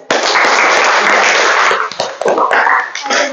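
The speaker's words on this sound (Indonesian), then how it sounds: "Baru tepuk tangan dulu" Children in a classroom clap their hands together in a dense, loud burst that tapers off after about two seconds, then scattered claps and a few voices continue.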